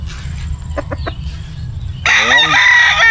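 A White Kelso rooster crows loudly and close by, one full strained crow following a few short clucks and quiet farmyard background.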